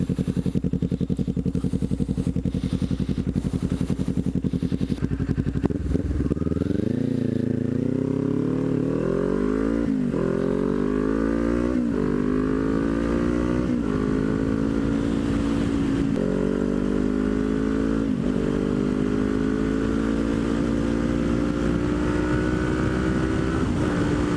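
A Kawasaki Ninja 400 motorcycle is ridden after a clutch repair, its engine droning loud and steady, then climbing through repeated rising revs and gear changes, close-up with constant wind rush throughout.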